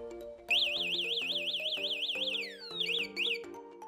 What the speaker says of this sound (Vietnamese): Khi mình bấm nút khóa xe thì khi có chuyển động chạm vào cả biến rung thì nó phát ra tiếng kêu